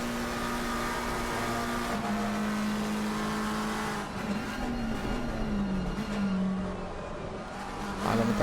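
A sim race car at Suzuka charges down the back straight toward 130R on a final qualifying lap, its engine a loud, steady drone that holds, then dips and climbs in pitch as it shifts.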